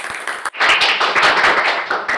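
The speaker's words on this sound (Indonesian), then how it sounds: "Kita kasih tepuk tangan dulu untuk Eti ya." After a brief pause, a classroom group claps for a student who just presented, a short burst of close, fairly loud, uneven hand claps.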